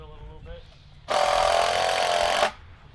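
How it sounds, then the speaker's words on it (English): A power drill bores into a deck board during deck building, a loud whining burst of about a second and a half, preceded by brief talk and a short motor blip. "Let me drill it a little bit."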